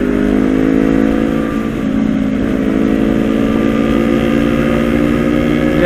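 Loud, steady engine drone of a motorbike moving through Indonesian traffic, close and continuous, with a slight rise and fall in pitch as it passes and no voices.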